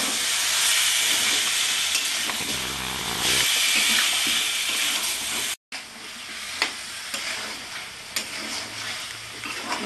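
Chicken pieces cook in a pan with no oil, giving a loud broad sizzle and hiss with stirring scrapes; the sound cuts out briefly, then resumes with sharper crackles.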